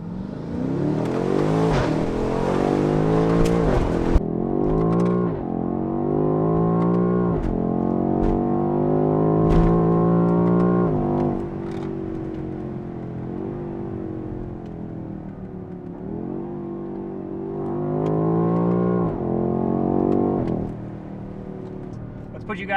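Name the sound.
BMW X6M valved sport exhaust revving, valves open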